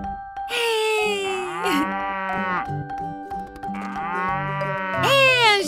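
Cartoon cows in a children's animated counting show moo in long, sliding, tonal calls. Two loud drawn-out moos sit over a bright musical backing, with no speech between them.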